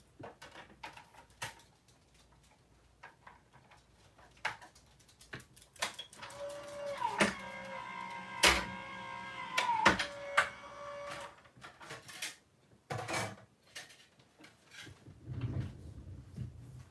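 A craft die-cutting machine presses stitch lines into a 4 by 5 1/4 inch paper panel, grinding and whirring steadily at close range with faint background noises and no talk.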